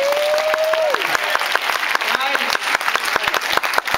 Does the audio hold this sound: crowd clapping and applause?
yes